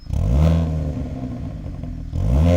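Aftermarket MBRP T304 stainless-steel exhaust on a Hyundai Kona N in normal drive mode, two loud rev blips with a steady throaty idle between them, no talking.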